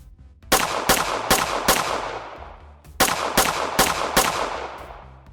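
Two bursts of rapid gunfire, four loud sharp shots each, evenly spaced with ringing tails, separated by a brief pause.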